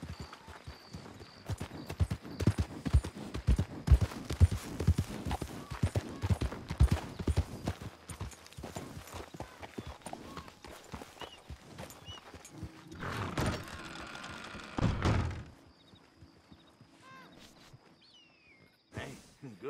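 Horse hooves clip-clopping in the video game Red Dead Redemption 2: a steady run of hoof clops that slows and fades near the end, with faint ambient game sounds behind.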